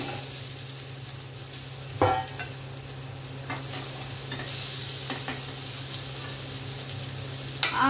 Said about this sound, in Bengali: আলুগুলোকেও ভেজে নিচ্ছি একটু।